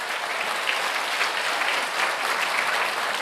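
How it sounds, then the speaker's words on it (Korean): A church congregation claps in steady, sustained applause during a worship service, a dense, continuous patter with no talking over it. "성령 하나님께 영광의 박수"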